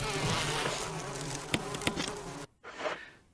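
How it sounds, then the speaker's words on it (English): Bees buzzing in the Resident Evil HD Remaster video game, a dense, close insect drone with a couple of sharp clicks, briefly cutting out near the end before resuming. "I'm going to take care of these bees because they're a general annoyance."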